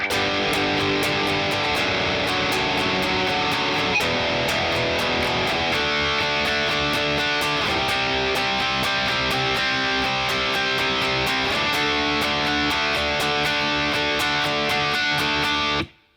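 Distorted electric guitar power chords strummed in a steady pattern, the chorus of a song, loud and continuous for about sixteen seconds before cutting off.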